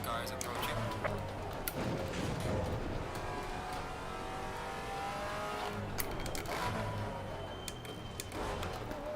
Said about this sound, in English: Faster car is approaching.